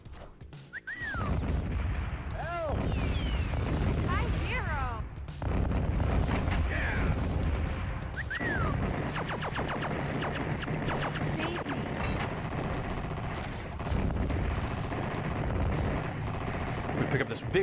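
Bombs drop automatically and explode in a video game, a dense continuous barrage of bursts and booming blasts over game music and effects, lasting throughout.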